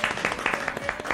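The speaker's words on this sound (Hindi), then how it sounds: "जोरदार तालियों में हम वेलकम करने जा रहे हैं" A studio audience claps to welcome a guest onto an interview show, a short burst of fairly loud, steady applause with a faint tone running underneath.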